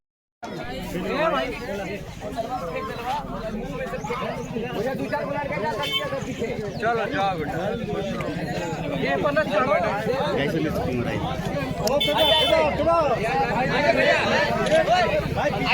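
Big crowd packed around a Mirzapur film shooting: a continuous hubbub of many overlapping voices and chatter, rising slightly louder toward the end, with someone nearby briefly calling out.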